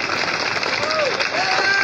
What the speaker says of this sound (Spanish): Renovamos el aplauso para el Taller de Danzas Folclóricas Municipal